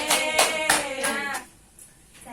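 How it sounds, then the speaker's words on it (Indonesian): Classroom applause at an elementary school, a short burst of close hand clapping with rhythmic slaps mixed with voices, fading to quiet room tone. "Tepuk tangan sekali lagi."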